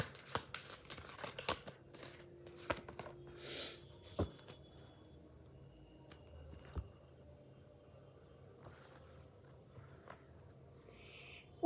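Tarot cards drawn and shuffled from a deck, giving soft scattered papery flicks, rustles and small taps close by with quiet pauses between them.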